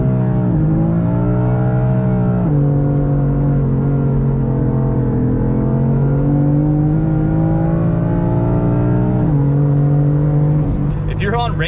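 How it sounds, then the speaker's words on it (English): A dual-clutch transmission car doing a short burnout, its engine held at high, steady revs with a pitch dip and climb, loud and close throughout. "So when we're doing those little burnouts,"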